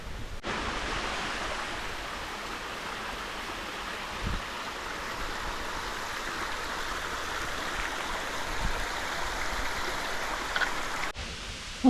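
Steady rushing water from a waterfall along the West Highland Way in Scotland, a continuous broad hiss and roar at even loudness, with a few faint thumps and no talking.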